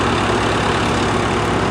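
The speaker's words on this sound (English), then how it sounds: "There's a big water truck here" A big water truck's diesel engine idles steadily at a pipeline construction site, a loud, even low rumble that holds without change throughout.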